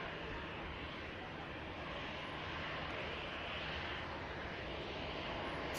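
An EasyJet airliner vacates the runway at Manchester Airport, its engines a steady, moderately distant whine and rush holding evenly throughout with no talk over it.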